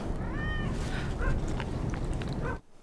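A cat in a television drama scene gives a clear, drawn-out meow, followed by a few shorter, fainter calls over a dense background hum. The sound cuts off abruptly at the end.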